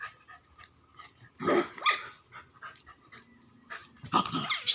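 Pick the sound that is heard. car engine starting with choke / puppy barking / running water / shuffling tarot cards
puppy barking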